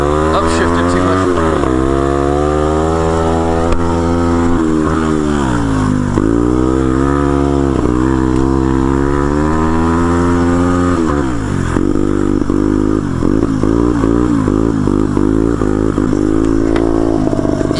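Turbocharged pit bike engine revs loud and close, its pitch climbing and falling through repeated throttle sweeps and shifts, then dropping into a choppier, pulsing idle near the end.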